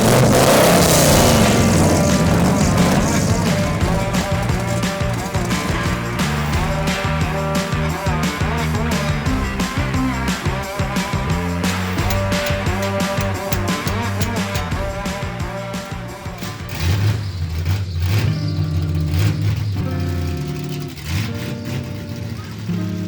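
A 1994 Chevy Silverado budget drag truck engine revs loud and close, a sustained roaring drone with shifting pitch that fades slightly before rising again.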